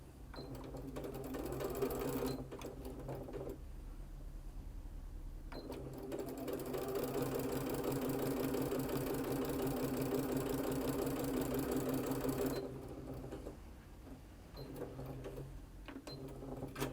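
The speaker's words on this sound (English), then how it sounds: "And we repeat the sewing again." A sewing machine stitches quilt binding pieces together, running in a steady mechanical whir for about nine seconds with short pauses and restarts before and after.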